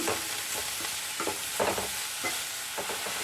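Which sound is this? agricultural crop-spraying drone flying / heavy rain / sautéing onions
sautéing onions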